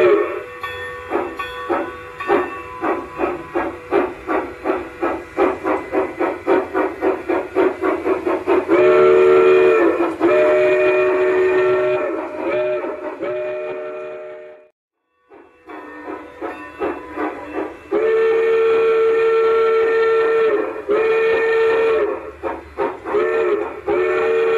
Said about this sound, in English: two toots of the whistle is the proper signal and forward